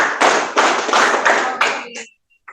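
Students in a classroom clap their hands together in a call-and-response clapping game, five or six loud, close claps in a quick, irregular rhythm, then silence and one fainter clap near the end.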